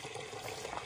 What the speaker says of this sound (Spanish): Hay una fuentecita aquí. Recargamos con agua fría.